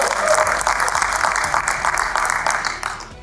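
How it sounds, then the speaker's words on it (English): Audience applause at a live fitness motivational speaking event, a dense, steady round of clapping from a crowd, close and loud throughout, tapering slightly at the end. "Can you guys all give Coach Paul a big round of applause?"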